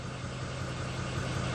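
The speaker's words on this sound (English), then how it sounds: "Idling at 639 RPMs." A car engine idles at about 639 RPM, a steady low rumble with faint vibration, heard alone at close range and constant throughout.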